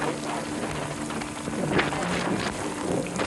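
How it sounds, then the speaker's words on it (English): Steady heavy rain hissing without pause in Japan, a dense wash of noise with no voices. "We have heavy rain going on here."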